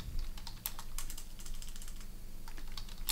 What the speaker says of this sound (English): So I'm gonna type Power BI dashboard,